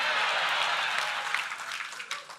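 A crowd at a CPAC political conference cheers and applauds, a dense, steady wash of clapping and voices that stays loud throughout and tapers slightly toward the end.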